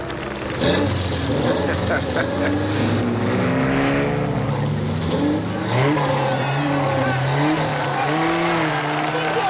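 A Ferrari race car engine revs hard and loud, its pitch climbing and falling in repeated sweeps with a rough, roaring edge, while voices can be heard through the engine noise.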